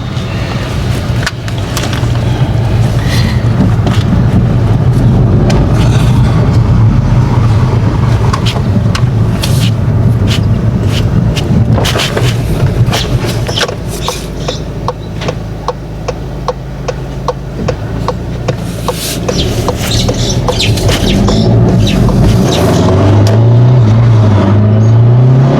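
A rebuilt Volkswagen Golf 7 GTI engine on a test drive revs and accelerates loudly from inside the car, with repeated rises through the gears and a steady road roar, no talking.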